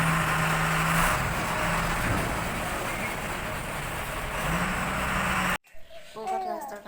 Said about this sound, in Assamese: ক'ৰবাত ৰাস্তাৰ কাম কৰি আছে সেইকাৰণে ডাম্পাৰ গৈ আছে